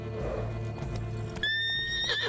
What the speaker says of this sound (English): this guy's gonna come up behind me and spook the horse